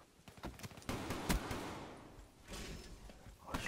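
Shotgun blasts in Call of Duty: Black Ops 3 free-for-all multiplayer, with a few heavy booming shots and game noise over a dense, loud backdrop.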